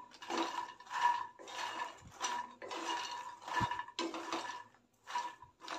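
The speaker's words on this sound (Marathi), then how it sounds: "तर हे मंद आचेवर भाजून घ्यायचं, एकदम क्रिस्पी होईपर्यंत भाजून घ्यायचं आहे." Makhana (fox nuts) dry-roasted in a kadhai over low heat, stirred so the light nuts rattle and scrape against the pan in bursts of about half a second, separated by short pauses, close and clear.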